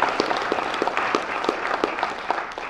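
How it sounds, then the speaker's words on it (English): Applause for Dan Seitzman from the audience at the Kalamazoo Improv Festival, a steady wash of many hands clapping with a few sharper near claps standing out, sustained and moderately loud. "Let's give him a round of applause."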